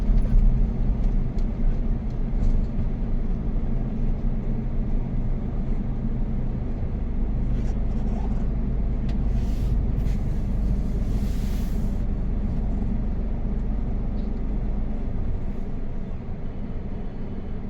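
Steady low rumble of road traffic with many vehicles queued nearby, heard as a continuous idling drone from inside a car with faint scattered noises on top.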